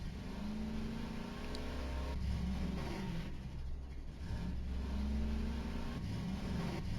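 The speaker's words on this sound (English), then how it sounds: "Why does it sound like I hear another engine?" A vehicle engine from a snowy delivery video game drones steadily with a low hum and rising and falling revs, moderately loud and continuous, with no talking.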